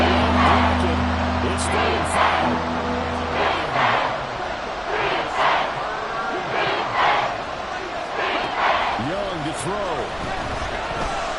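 A football stadium crowd roars continuously through the span of a game broadcast, loud and sustained with rising swells, while an announcer talks over it.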